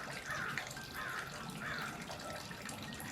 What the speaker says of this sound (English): here we have a 3/4 cup of our coconut milk going in.